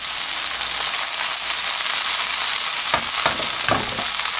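A Korean chive and chili pancake sizzles steadily in a frying pan over medium heat, a dense close crackle with a few brief scraping stirs near the end.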